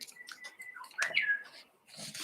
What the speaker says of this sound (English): I don't know if you just heard that, but I love their call.